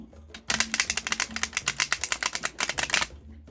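A deck of cards is shuffled close up, a rapid burst of crisp riffling clicks lasting about three seconds after a brief pause.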